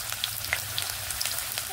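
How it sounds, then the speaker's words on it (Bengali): Potatoes and carrots frying together in a little hot oil in a wok give a steady, soft sizzle with faint crackles and small pops scattered through it, close by and alone without talk. "এবার এখানে আমি আলু ও গাজরগুলোকে একসঙ্গে ভেজে নিচ্ছি"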